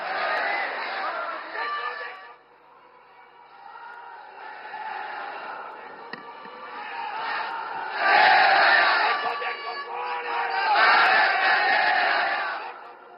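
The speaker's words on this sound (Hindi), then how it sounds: "प्रधानमंत्री श्री नरेंद्र मोदी जी को वंदन सह आइए जोरदार तालियों के साथ आमंत्रित करते हैं अपने बहुमूल्य मार्गदर्शन के लिए" A large crowd at a Somnath, Gujarat gathering welcoming the prime minister roars and chants in swelling waves, loud and sustained, with voices rising and falling for several seconds.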